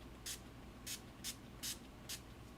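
NYX Matte Finish setting spray is misted onto a face in five short, quiet hissing puffs at a steady rhythm, close and without talk.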